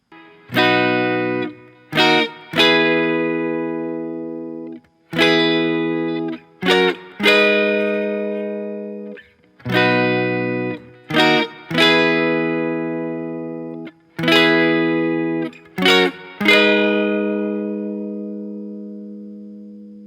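Distorted electric guitar chords ring out in a repeating pattern, each sustained chord followed by quick short stabs, loud and alone with no talking.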